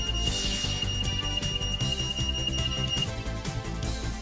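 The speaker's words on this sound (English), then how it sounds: "That's the fire alarm." A fire alarm going off indoors, a loud continuous high-pitched electronic tone sounding steadily under busy background noise, with no talking.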